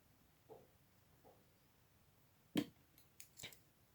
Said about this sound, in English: I'm going to cut the thread.